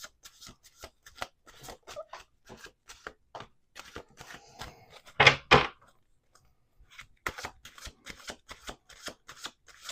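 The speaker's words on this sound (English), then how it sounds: "Let's do 2 more shuffles." Playing cards shuffled at a table during a card reading, a rapid run of crisp riffling flicks, two bursts of shuffling with a pair of louder bridging slaps in the middle, close and clear with no talking.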